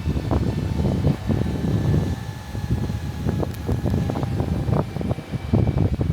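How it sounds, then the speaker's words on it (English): A strong ocean breeze at Crystal Cove State Park beach buffets the microphone in loud, uneven low gusts that rumble continuously, with no talk over it. "The wind is a beautiful, it's a strong breeze coming in from the ocean."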